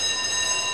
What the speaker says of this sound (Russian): Это сигнализация сейчас или что это сейчас?